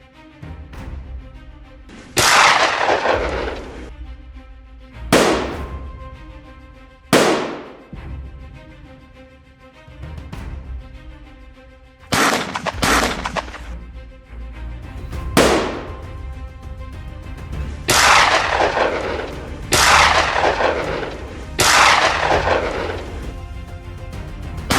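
Hunters' rifle shots during a helicopter hog hunt on Texas plains, about eight sharp loud reports spaced a few seconds apart, each trailing into a long echo over a steady rotor-like drone.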